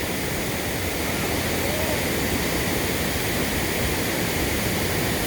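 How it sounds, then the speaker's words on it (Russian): A waterfall on the Elk River in North Carolina, dropping about ten metres, gives off a loud, steady, unbroken rush of falling water that fills the whole clip. "А вот и сам водопад."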